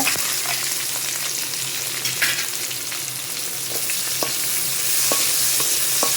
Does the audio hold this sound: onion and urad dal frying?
yes